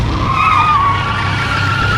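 A car accelerates hard in a film scene, its tires skidding and squealing in a loud, sustained screech over a heavy engine roar.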